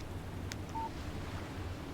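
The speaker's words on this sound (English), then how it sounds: "Text message from Barry." A phone text message alert sounds in the Alan Wake video game, a short electronic tone standing out over a steady low background hum, with no talking during it.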